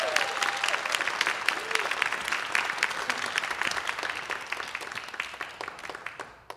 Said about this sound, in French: Une bonne main d'applaudissements pour Rosalie Lacroix.